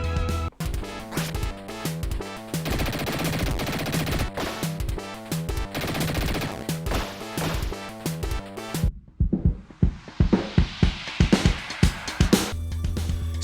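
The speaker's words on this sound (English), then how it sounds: "you could also switch to a Tommy gun to take out enemies in the game's backscape" Rapid gunfire and crashing blasts from a Tommy gun in a Sega side-scroller game, loud and dense over game music, breaking up near the end into sparse, sharp bursts.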